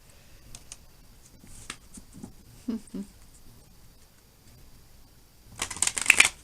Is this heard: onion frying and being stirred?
no